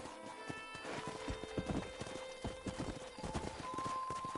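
Horse hooves clop in a steady rhythm, joined by a horse's whinny, with sustained musical tones running underneath, from the video game Red Dead Redemption.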